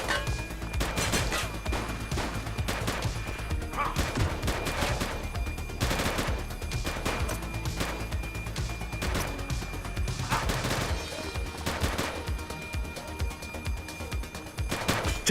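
Video game gunfire crackles in rapid, repeated bursts and volleys, loud and dense throughout, with several heavier clusters of shots standing out among the steady shooting.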